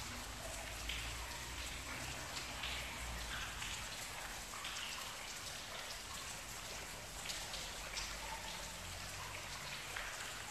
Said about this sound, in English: You can hear all the drips of water that's coming from just over there.